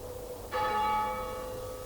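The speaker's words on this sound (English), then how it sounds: "It's the bell. Someone's in the church." A single church bell struck once in a television drama, a sudden clear clang that rings on and slowly decays, with no talk.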